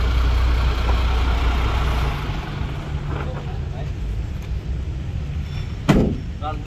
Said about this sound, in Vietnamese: khi mà đề máy lên như vậy thì để cho quý vị nghe cái tiếng máy